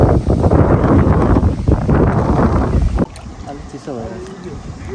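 Strong, unexpected wind gusts across Baneheia Lake and buffets the microphone in a rough roar, then eases after a few seconds, with voices faintly under it.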